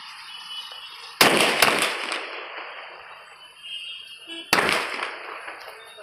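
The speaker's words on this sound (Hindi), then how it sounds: "तो चलिए जलाते हैं चक्री को।" Chakri spinning fireworks and granite crackers going off outdoors: two loud sudden bursts of crackling and popping, the first sputtering on for a few seconds and fading, the second erupting near the end, with no talk.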